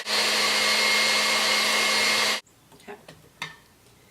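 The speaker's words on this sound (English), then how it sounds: "I put the 4 ingredients into my mixer," An electric mixer whips orange juice, vanilla and sugar with a loud, steady motor whir for a little over two seconds and then cuts off abruptly, followed by quiet handling noises and a brief spoken word.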